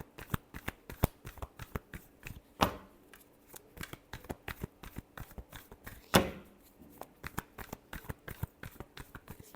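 Tarot cards being shuffled by hand, a rapid run of crisp riffling flicks with two louder snaps, close and alone.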